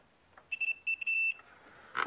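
A multimeter continuity tester beeps in a short burst of a few electronic tones while probing the red line on a CRT board, then gives one faint beep at the end.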